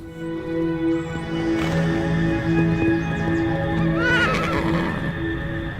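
A horse neighs with a wavering, drawn-out whinny over a steady background hum, with a few clip-clop-like thuds and other nearby stirring.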